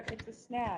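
A few quick computer-keyboard clicks tap out under a voice in a short burst before his speech takes over.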